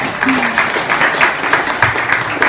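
Audience at a startup pitch night claps together after a presentation, a brief, lively patter of many hands with uneven pulses, close and fairly loud.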